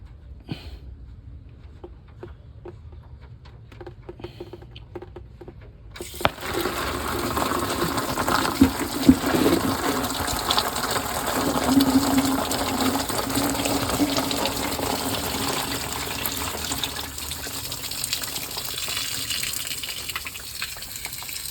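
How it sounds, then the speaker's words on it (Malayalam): Coolant water runs out of a Mahindra tempo's radiator in a steady, continuous gush after a few seconds of near quiet, a constant splashing flow close by. "വെള്ളം നിർത്താതെ പോവുകയാണ്."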